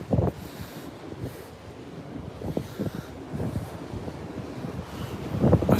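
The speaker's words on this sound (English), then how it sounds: "it's definitely cold, that wind" Cold wind blowing at a beach near a pier, steady gusty rush buffeting the microphone with a faint wash of surf beneath, no voices.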